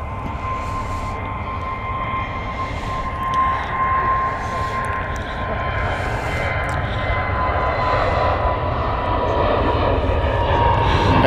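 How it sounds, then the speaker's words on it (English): An EasyJet airliner passes at Stansted Airport with a steady, fairly loud jet rumble and whine that holds throughout and grows slightly stronger toward the end. "There goes EasyJet."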